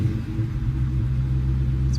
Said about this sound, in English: that Hemi engine sounds really good